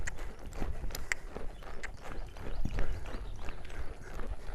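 Rescue Arabian mare walking, her hooves giving a steady, moderately close clip-clop rhythm over quiet background, with no talking.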